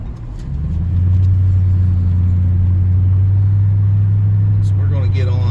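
A Ford Police Interceptor P71 cruising toward an interstate, its engine giving a loud, steady low rumble with constant road noise that builds in the first second and then holds even.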